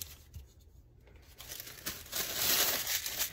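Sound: crumpling tissue paper for fabric paper

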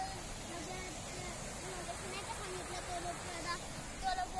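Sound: river water flowing in a Konkan jungle

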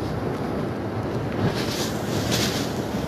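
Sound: strong typhoon wind

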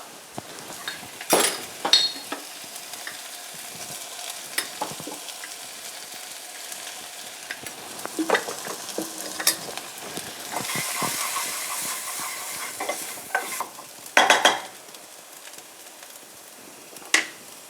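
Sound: onion and flour frying, stirred in pan

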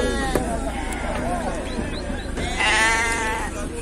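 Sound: sheep bleating at a livestock market

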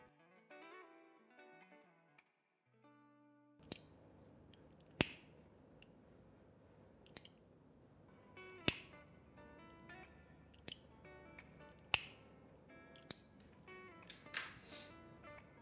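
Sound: scissors cutting the edge of an embroidery bracelet

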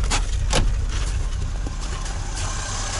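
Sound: Moskvich 2141 car engine running after starting

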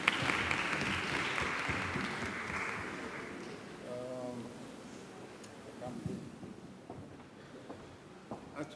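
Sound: audience applause

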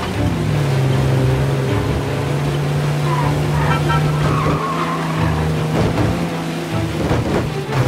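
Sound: rain and thunder in video game Mafia: Definitive Edition

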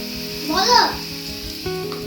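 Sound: potatoes frying in oil for khichuri

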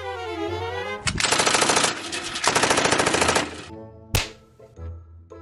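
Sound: gunfire sound effect

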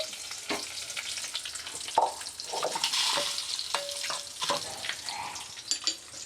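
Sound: raisins frying in a pan for jaggery payasam

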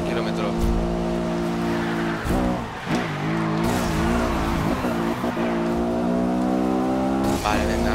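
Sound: racing car engine in Need For Speed Rivals video game

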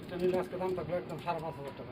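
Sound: pigeons cooing

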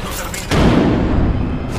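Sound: grenade thrown and exploding in video game Apex Legends

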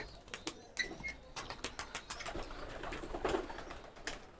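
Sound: racing pigeons cooing

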